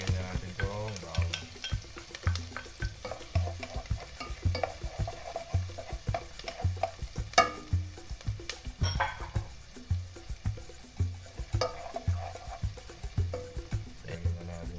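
Onion and garlic sauté in a pan with a soft continuous sizzle, broken by repeated close scraping and clinking as a utensil stirs against the metal.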